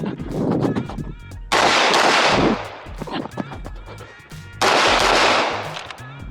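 Gunfire at a shooting practice session, loud sharp reports standing out close by, with a couple of heavy blasts separated by pauses and some background voices between them.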